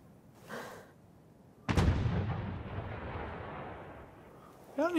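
Battlefield 1 campaign gunfire: a heavy, booming shot bursts in and rolls off into a long fading echo, with quieter distant reports before and after.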